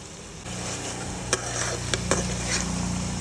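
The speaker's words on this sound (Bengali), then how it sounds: "এখন আমি আদাটা দিয়ে আবার একটু কষাবো, একটু কষিয়ে নিই।" Ginger paste being fried and stirred with garlic and cumin in a pan for a duck curry: a steady, close sizzle with a few sharp scrapes of the spoon, and no talking.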